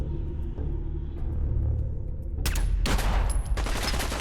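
Heavy rumbling gunfire in a video game, a shotgun blast and bursts erupting loudly over a constant low roar of engine-like noise, with no voices.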